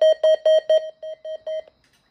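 A Midland WR300 version 8 weather radio sounds its siren alert tone: seven quick, loud, evenly spaced beeps over about a second and a half, the last few slightly softer, then silence.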